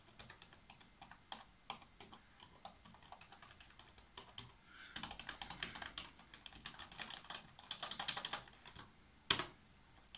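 Rapid clicking of keys on a Genius Slim Star 110 computer keyboard, typed in quick uneven bursts, faint at first and growing busier toward the end.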